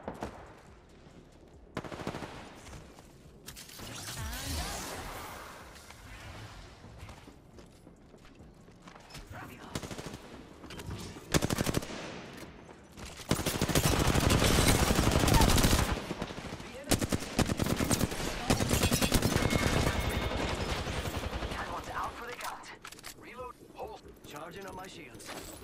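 Shooter video game firefight with repeated bursts of automatic gunfire and single shots, some long sustained volleys and mechanical clicks, loud at times and quieter between, with a player talking over parts of it.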